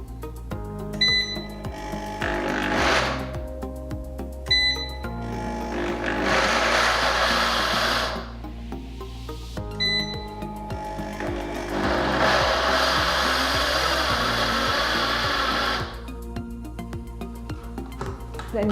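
An Optimum Evolve blender pulses peanuts into peanut butter in several bursts, a loud close grinding motor roar that cuts in and out with brief pauses between pulses, no talking.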